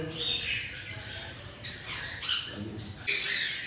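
An African grey parrot about six and a half years old lets out four short, harsh squawks spaced across a few seconds, with faint insect chirping behind.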